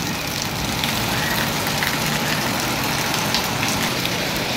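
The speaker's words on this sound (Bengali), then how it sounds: "দেখেন এই যে প্রচুর বৃষ্টি হইতেছে।" Heavy rain pours in Kuwait over flooded streets near a house, a dense, even hiss of falling water that stays steady throughout, with no voices.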